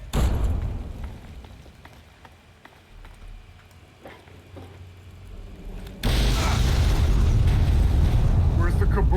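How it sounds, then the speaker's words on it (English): A sudden, loud explosion in Fallout 3 bursts into a sustained roaring rumble that lasts to the end, following a stretch of quieter in-game sounds. "Where's the kaboom? Oh, there it is."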